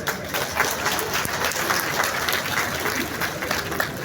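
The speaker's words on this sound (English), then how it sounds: "Yes, it is a good time to clap." Steady applause from a sizable crowd at a conference on security, dense and continuous throughout, with many hands clapping at once and no pauses.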